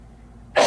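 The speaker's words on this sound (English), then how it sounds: "I'm gonna cough." A single sharp cough bursts out close by at the end, after a near-silent pause in a quiet room of an old mansion.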